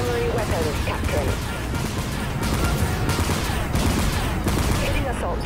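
Spaceship primary weapons firing in the space combat game Dreadnought, a dense, loud, continuous barrage of rapid bursts with repeated booming hits over a constant roar.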